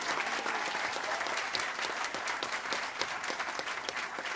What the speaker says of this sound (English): Come on, you can clap louder than that.